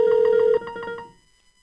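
Phone ringing out during an outgoing call: a steady tone for about half a second, then a few short pulsed beeps that fade into quiet, with no voices.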